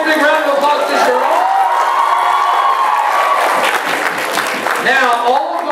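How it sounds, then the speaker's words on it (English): A Comic Con panel audience for Miraculous: Tales of Ladybug & Cat Noir bursts into loud, sustained applause with cheers and whoops, while a voice carries over the crowd near the end. "Give a nice big round of applause to Jerome."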